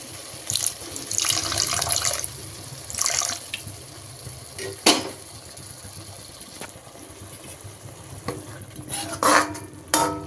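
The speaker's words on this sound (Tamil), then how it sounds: "அரை டம்ளர் மட்டும் தண்ணி சேர்த்துக்கலாம்." Water pours and splashes into a pan of cooking noodles with a stirring scrape, accompanied by intermittent clatter and a low background hum; no voices.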